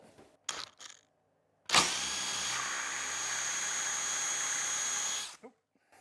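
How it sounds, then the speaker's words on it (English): A power drill drilling out the top of a stripped screw whirs steadily for about four seconds with a high, even mechanical whine, preceded and followed by brief clicks and handling noises. "the process starts by drilling the material out of the top of the screw"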